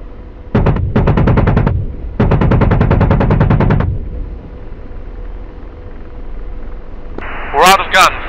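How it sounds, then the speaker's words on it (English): AH-64D Apache helicopter cannon firing in the DCS flight simulator: two loud rapid bursts of automatic gunfire, roughly a second and nearly two seconds long, over a steady rotor drone, with brief radio-style speech near the end. "We're almost out of gun rounds."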